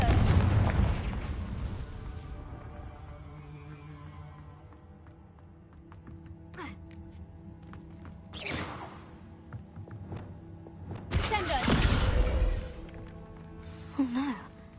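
A Confringo fire spell cast in a wizarding video game goes off as a loud whooshing blast, followed by a few quieter bursts and a second big explosive surge near the end, over low game ambience.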